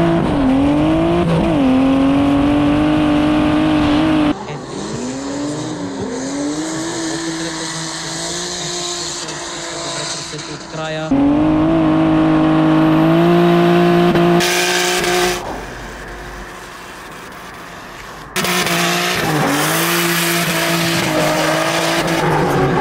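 A drift car at SoDRIFT 2024 slides at full throttle with loud, sustained engine roar and squealing tires, the revs rising and falling through several passes, with brief gaps and shifts in level as the car moves.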